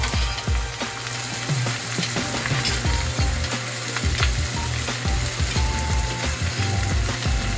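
Onions frying in hot oil for an egg masala curry, a busy, steady crackle and sizzle with scraping, clicking stirring noises throughout, fairly loud and close with no talk.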